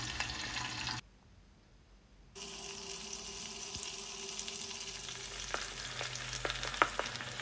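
A paste of mandar flowers and leaves cooks in homemade coconut oil, giving a steady sizzle and frying hiss with faint stirring scrapes and a few sharp ticks. A sudden brief dip in sound breaks it near the start.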